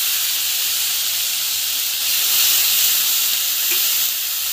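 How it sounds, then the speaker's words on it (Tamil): Food being sautéed in a pan on the stove: a steady, bright hiss and sizzle continues throughout, swelling slightly midway, with no talking. "நல்லா நல்லா வதக்கிக்கோங்க."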